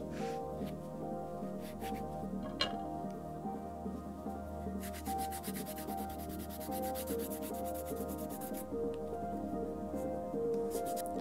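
A small rag rubbed briskly along a leather edge to buff wax in, giving a steady, close, continuous rubbing hiss with faster strokes toward the end and no talk.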